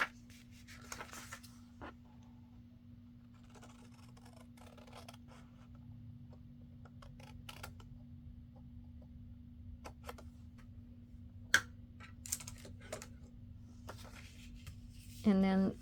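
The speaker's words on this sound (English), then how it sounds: "So on your score line, you're going to cut across there." Scissors cut across a 12x12 paper sheet along a scored line, producing faint, sparse snips and paper rustles over a low hum, with a louder handling noise at the end.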